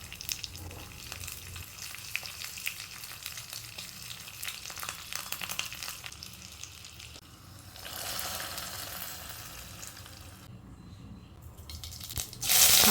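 Curry leaves sizzling in hot oil for a tempering, a faint steady crackle and hiss that swells louder partway through and ends with a sharp burst.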